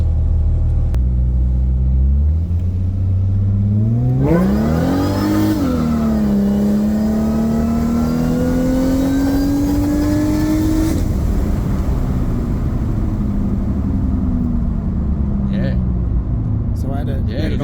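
A supercharged car running on E85 revs hard, its engine rumble rising with a strong, climbing supercharger whine before easing off, loud and close, with people talking over it.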